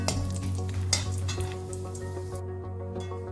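Cashews frying in ghee, a steady sizzling hiss in a pan with occasional light clinks of a spoon, over a constant low electrical hum.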